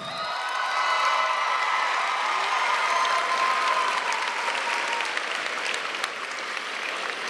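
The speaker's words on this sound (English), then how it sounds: "Please give those people a round of applause at this time." A graduation crowd in a large hall gives a long round of applause for the graduates' supporters, steady clapping mixed with scattered cheers and whoops, moderately distant and reverberant.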